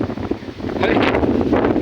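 Strong wind buffets the microphone in rough gusts, growing louder toward the end, with a person speaking underneath.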